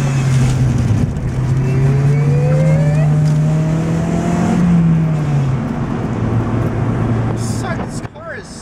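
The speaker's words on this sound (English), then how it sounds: "This car is so easy to drive." A car engine revs and accelerates, pitch climbing through gears then settling, loud and close with road noise underneath.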